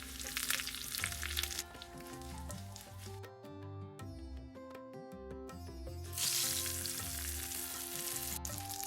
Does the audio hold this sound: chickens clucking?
no